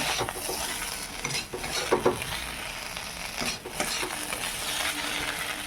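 A spice mix fries in a pan with a soft continuous sizzle, broken by a few scraping stirs and light utensil clinks against the metal, fairly quiet and without talk.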